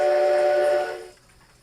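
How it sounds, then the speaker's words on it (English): A single short steam-style whistle blast from the default sound of a Kato N gauge model C57 steam locomotive soundbox, bright and tonal, held under a second before quickly fading out. "here's the default whistle"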